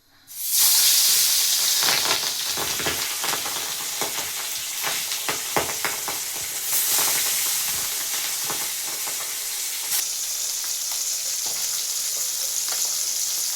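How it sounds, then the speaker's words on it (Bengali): Pabda fish sizzling steadily in hot oil for a Bengali tel jhal curry, a loud, continuous crackling fry with sharp spatters throughout and no talking. "এবার আমি মাছগুলো একে একে ভেজে নেব"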